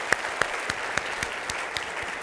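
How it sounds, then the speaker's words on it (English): An audience applauds at a dentistry management event, steady crowd clapping punctuated by one near, loud clapper striking in a regular rhythm about every quarter second. "Can we all give him a round of applause one more time for putting this together?"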